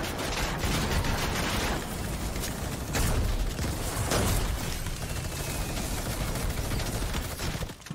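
Gunfire in a video game, a sustained clatter of shots and bursts in a dense, busy mix with no talk over it.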